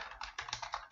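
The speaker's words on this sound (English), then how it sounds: "so I type a request URL here" Quick burst of keystrokes on a computer keyboard while a URL is entered, about seven or eight close, crisp clicks in rapid uneven rhythm, quiet overall.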